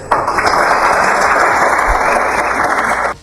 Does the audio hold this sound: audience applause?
yes